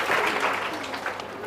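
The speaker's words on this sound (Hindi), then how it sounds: "जोरदार तालियां" Loud, steady applause from an audience at a test series prize distribution, sustained clapping from many hands with no one speaking.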